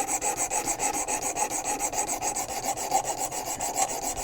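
A knife blade stroked against an abrasive on a WorkSharp Precision Adjust sharpener, raising a burr for a mirror edge: a close, steady run of rhythmic rasping strokes, about six per second, with no talking.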